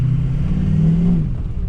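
A lifted 2004 Ford F250 diesel truck revs up close, its deep engine note swelling and then easing back, loud and steady with no voices.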